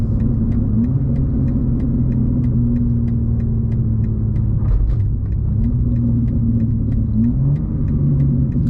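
A G87 BMW M2 with a single mid-pipe exhaust drones steadily while driving, a deep continuous engine note that shifts pitch slightly with throttle and gear changes, loud and close, with no talking.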